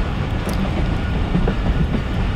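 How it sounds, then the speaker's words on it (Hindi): The 130DN Thal Express train approaches Daud Khel Junction, a loud steady rumble of rolling wagons with rhythmic wheel clatter filling the whole stretch, no voices. "थाला एक्सप्रेस दाऊद खेल जंक्शन के लिए अप्रोच बना रही है।"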